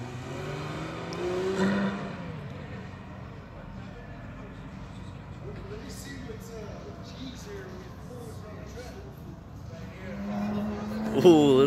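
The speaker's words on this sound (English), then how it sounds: "Ooh, listen to that engine." On an otherwise empty race track, a drift car's engine revs and drones from a distance, rising in a loud swell near the start and again at the end, with voices talking over it.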